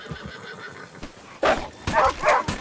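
A horse in Red Dead Redemption 2 whinnies after falling, several loud close neighs rising after a stretch of quieter hoof and movement sounds.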